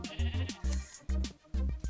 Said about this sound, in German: Schafe!